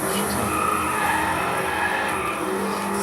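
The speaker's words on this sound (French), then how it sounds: "Et en plus c'est du drift." Car drifting in the DriveClub racing video game, with a steady, loud tire skid and squeal blended with engine roar that continues without a break.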